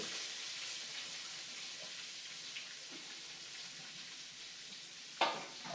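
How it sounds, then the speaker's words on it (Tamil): Raw mango and green chilli sautéing in a pan with curry leaves over a low flame, a faint, even hiss that runs throughout, with one brief clink of the spatula near the end. "நல்லா ஒரு லோ ஃப்ளேமில் வச்சு வதக்கிட்டு"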